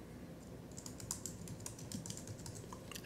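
Quiet, steady typing on a computer keyboard while adding a task in an email program: a continuous run of soft, close key clicks with no talking.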